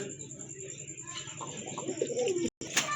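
A pair of thick-beaked pigeons coo in low, throaty murmurs close by amid a busy pigeon sale, with a brief dropout near the end and no clear talk over them.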